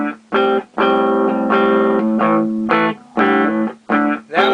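Electric guitar chords ring out through a tube amp with a Telefunken 12AX7 preamp tube in a series of strummed bursts, full and fairly clean with slight grit, separated by short pauses.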